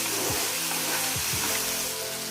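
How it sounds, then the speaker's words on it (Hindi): Chopped tomatoes go into keema frying in a pan, a loud, steady close-up sizzle with a few brief stirring scrapes along the way and no voices. "अब हम टमाटर ऐड कर देंगे"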